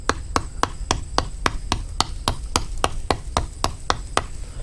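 A BPS HK1S fixed-blade bushcraft knife strikes wood in a steady, even rhythm, about fourteen sharp chops over a few seconds, close and crisp.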